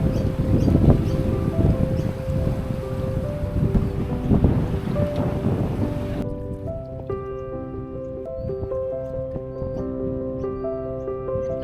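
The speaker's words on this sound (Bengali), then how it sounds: "বাতাস হচ্ছে যে কথাই বলা যাচ্ছে" Strong gusts buffet the microphone beside the Parramatta River at Kissing Point Park in Sydney, roaring loudly at first and then easing into a lower steady rush.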